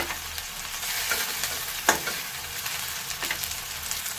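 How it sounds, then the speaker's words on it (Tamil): Small shallot-type onions sautéing in a pan for a chutney, a continuous close sizzle broken by a few spatula stirs and one sharper scrape, no talking. "சின்ன வெங்காயம் சேர்க்கறதுனால நல்லா டேஸ்டியாக இருக்கும். நல்லா வதங்குற வரைக்கும் வெயிட் பண்ணலாம்."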